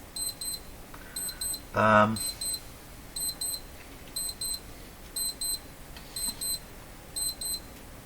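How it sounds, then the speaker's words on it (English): An alarm clock beeps in rapid bursts of high electronic tones, repeating in a regular rhythm about once per second from the background, with a brief louder voice-like burst near the start. "It's the alarm clock I cannot reset going off there in the background."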